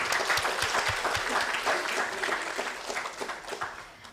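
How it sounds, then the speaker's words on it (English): An audience at a G20 University Connect event applauds a professor with steady, dense clapping, close and fairly loud. It holds for several seconds and softens slightly near the end. "Can we have a round of applause for her?"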